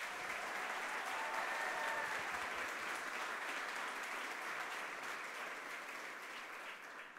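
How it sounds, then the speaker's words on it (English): Sustained audience applause at the US Lacrosse Hall of Fame ceremony, a dense, even roar of clapping from a large crowd in a hall that holds steady and tapers slightly at the end. "One last round of applause for Laurette Payette."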